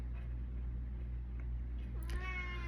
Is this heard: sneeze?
no